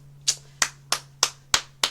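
Six single hand claps spaced evenly about a third of a second apart, crisp and close, alone over a faint steady hum.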